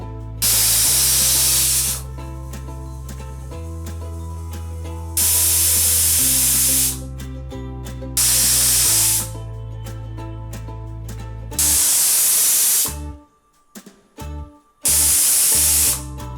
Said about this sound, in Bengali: গ্যাসের আগুনটা আমি মিডিয়াম রেখে পাঁচটা সিটি দিয়ে বন্ধ করে দেব